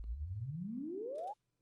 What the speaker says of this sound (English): there is reverb on that test tone